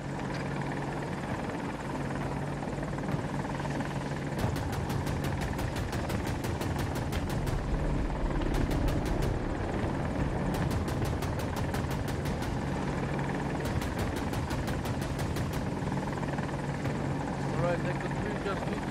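AH-64 Apache helicopter in a video game on the Hourglass map, with a steady loud rotor and engine drone throughout and bursts of rapid cannon-like fire, while crew members talk over it.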